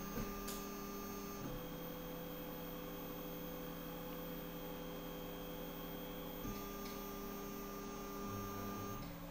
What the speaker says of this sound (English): So that's going to home our Z axis.